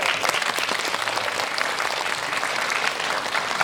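A cinema audience applauds during a post-screening talk with the director and cast on the opening day of the film Hero, in a CGV Yongsan theater. The clapping is dense and sustained throughout.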